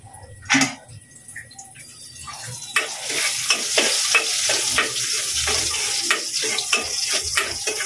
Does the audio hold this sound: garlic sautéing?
yes